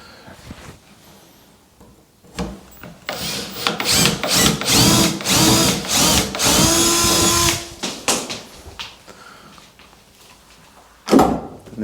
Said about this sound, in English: As soon as the point of the spade bit starts to come through the other side, then spin around and we'll drill from that side